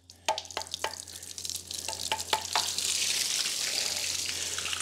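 Water, not coolant, drains from a 360 engine being fitted into a 1967 Dodge Dart: a few scattered drips and splashes that build into a steady, close splattering pour.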